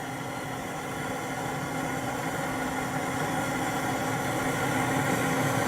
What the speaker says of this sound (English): you turn the propane torch onto the pellets until they get a good flame going